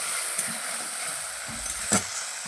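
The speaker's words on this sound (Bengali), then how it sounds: "ভালো করে মশলাটাকে কষিয়ে নেব" Spice paste with turmeric and salt frying in oil as it is stirred for a Bengali fish curry, a steady close sizzle with soft scraping stirs and one sharper clink near the end.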